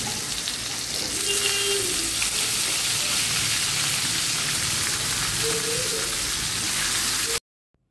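Pointed gourd dropped into a hot wok, giving a steady hiss of frying oil close by for about seven seconds with faint background tones, then an abrupt stop.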